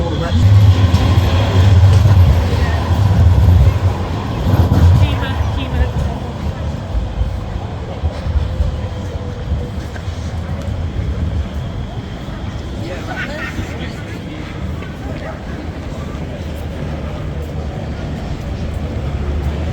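A Manchester Metrolink tram rumbles past on a city street near Piccadilly Gardens, loudest in the first few seconds, then fading into steady traffic and street noise.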